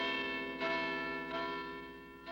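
Huge two-ton bronze bells in a bell tower ring with a deafening, sustained metallic clang, struck roughly every second so that fresh strikes swell over a continuous shimmering hum.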